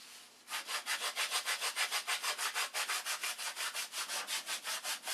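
Wooden airfoiled flaps being sanded in one direction, a steady run of about two dozen rhythmic back-and-forth strokes, close and fairly loud, with no voices.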